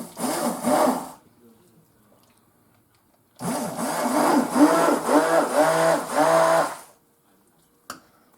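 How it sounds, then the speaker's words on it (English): An immersion blender whirs in two bursts, a short one then a longer steady run with wavering pitch, stopping abruptly; a brief clunk follows. "let me get my Emersion Blender."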